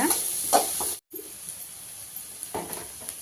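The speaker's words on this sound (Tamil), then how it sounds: "பீன்ஸும் போட்டு எண்ணெயிலேயே கொஞ்சம் வதக்கலாங்க" Beans and carrots sizzle and hiss as they sauté in hot oil in a pan, a steady close frying sound with a brief gap partway through and no talk.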